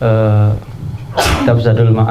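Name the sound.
sneeze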